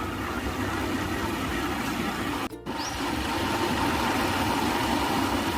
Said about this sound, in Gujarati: આપણું છે જૂનું બાઈક,